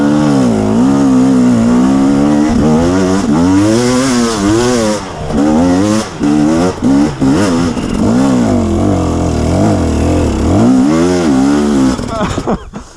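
A dirt bike engine revs hard on a hillside trail, loud and close, its pitch rising and falling with throttle blips and gear changes for the whole stretch.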